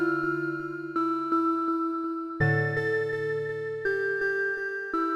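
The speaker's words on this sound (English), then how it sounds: "bell pluck pad as well, which sounds like this using Pretty Bell presets." A synth bell pluck pad from FL Studio's Pretty Bell preset plays sustained chiming chords, changing every second or so, with soft repeated bell-like plucks and nothing else.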